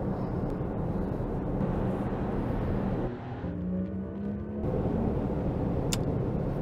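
Inside a 2024 electric Porsche Macan, steady tyre roll and road rumble fill the cabin, a continuous low drone that dips briefly and swells again, with a faint whine and no speech.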